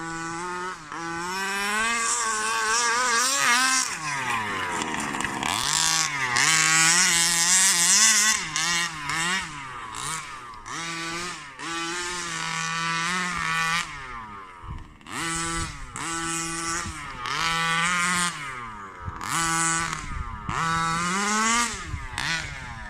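A Rovan Baja RC car with a small petrol engine is driven around, its buzzing engine revving up and down in repeated bursts with short throttle-off gaps and a few quieter idle moments, with no talk.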